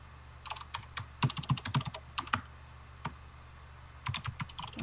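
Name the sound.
typing on a computer keyboard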